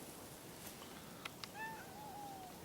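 A cat meowing indoors, one drawn-out rising and falling meow after a couple of small clicks, fairly quiet and close, with no talking over it.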